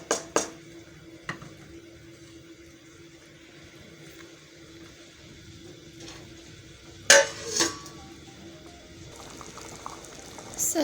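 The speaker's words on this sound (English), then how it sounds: "the pilau is boiling, and we'll wait for it to cook" Pilau rice boiling in a pot in a home kitchen, a low steady bubbling simmer running throughout with a few brief clinks of pots or utensils near the start and middle.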